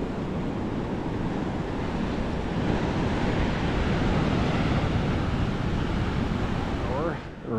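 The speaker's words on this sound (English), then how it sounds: "That's some good sized swells" Ocean swells break and wash up on the shore at Imperial Beach near the pier, a steady, loud roar of surf with wind noise on the microphone, easing off briefly near the end.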